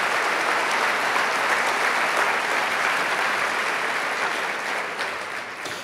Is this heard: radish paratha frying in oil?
no